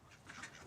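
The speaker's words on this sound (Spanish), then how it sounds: "Tengo 42 patos." Ducks from a homestead flock of about forty quack in a brief, faint burst of rough, nasal calls heard at a distance, with no voices.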